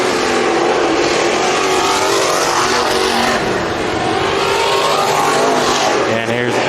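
IMCA Northern Sport Mod race cars racing at Bakersfield Speedway during a heat race, a loud, steady roar of several engines with shifting revs as cars pass, no talk.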